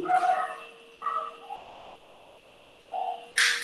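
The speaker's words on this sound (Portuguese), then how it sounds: "Ó, o cachorro." A dog barks in several sharp bursts with pauses between them. It is fairly close and fairly loud, and no one is talking over it.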